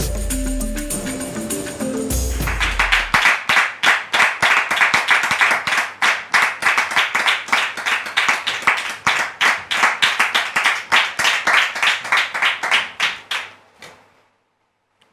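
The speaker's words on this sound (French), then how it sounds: "Je voudrais donc, très cher public, vous demander de les recevoir avec vos applaudissements" An audience bursts into rhythmic applause welcoming guests onto a stage, loud and sustained clapping after a brief musical opening, then fading out near the end.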